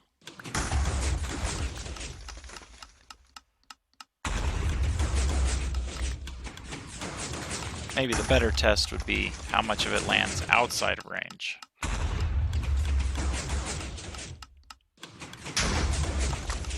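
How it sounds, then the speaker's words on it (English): Explosions in a modded Minecraft tree farm: several long, roaring blasts of noise follow one another with brief pauses between them, while someone talks over them. "So we'll do just a couple more explosions."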